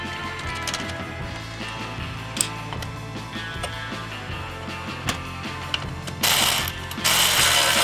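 A ratchet wrench tightens a Maniflow exhaust on a 1988 Austin Mini, with steady close clicking strokes in an irregular rhythm, then a louder, noisier stretch near the end.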